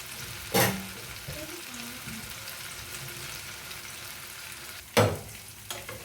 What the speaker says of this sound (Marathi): जस्ट मसाला थोडासा ब्राउनिश होईपर्यंत आपल्याला हे व्यवस्थित फ्राय करून घ्यायचे आहे